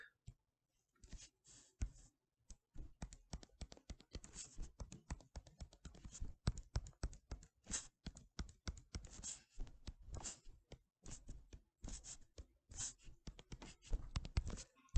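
A pen writing and tapping on a surface while a polynomial graph is drawn, close, quiet, irregular scratches and taps in short bursts, no talking.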